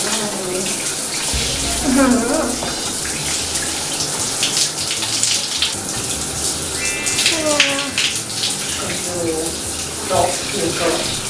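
Running water splashes steadily while someone rubs and rinses their face by hand to test waterproof makeup, a loud continuous close wash with a few brief vocal sounds mixed in.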